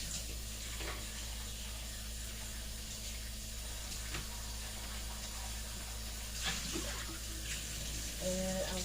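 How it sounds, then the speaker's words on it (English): A kitchen faucet runs steadily into a tea pitcher, giving a constant close splashing hiss. A few faint clinks come near the end, with no talk. "add water to my tea pitcher"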